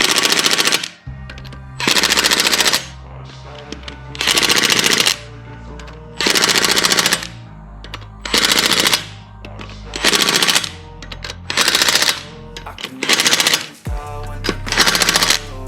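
Pneumatic impact wrench tightening the wheel bolts on a car during a tyre change: loud rattling hammering bursts of about a second each, repeated roughly nine times with short pauses between, alone with no talk.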